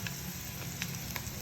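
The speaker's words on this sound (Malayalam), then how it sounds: "ആ പാത്രം തന്നെ വെണ്ടയ്ക്ക വാട്ടിയെടുക്കണം." Okra sautéing in a pan for Kerala-style sambar, a steady close sizzle and crackle with faint stirring scrapes, no voices.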